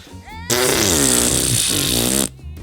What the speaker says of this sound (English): Fart noises? Is that what that was?